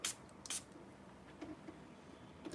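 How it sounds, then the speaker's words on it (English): Spray paint hisses onto a figure in short bursts, two sharp sprays near the start followed by fainter intermittent puffs, quiet and close with no talk. "So we are spraying on Mitsuko without any dilly-dallying"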